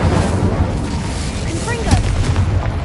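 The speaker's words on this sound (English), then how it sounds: "Incendio!" The Incendio fire spell is cast in the game Hogwarts Legacy, producing a loud, rumbling burst and roaring whoosh of flame with a voice heard over it.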